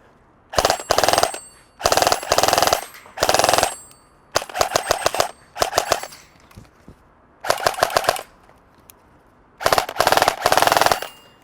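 A KWA Ronin 47 airsoft electric gun fires in sharp rapid full-auto bursts, seven or eight separate strings with short pauses between, loud and close with no talk.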